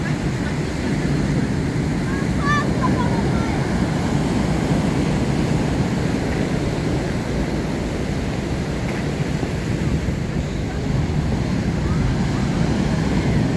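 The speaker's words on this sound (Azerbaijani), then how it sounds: "Dalgalar böyüdü. Dünən daha da böyük dalgalar var idi." Large sea waves surge onto a shore with beachside cafes, a continuous broadband roar of surf and wind filling the whole stretch at steady loudness, with no talk.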